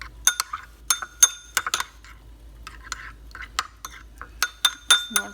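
Utensil clinking against a dish while stirring a Vietnamese fish sauce dip of lime, garlic and pepper, a run of bright, close, irregular taps and scrapes, with a voice heard briefly.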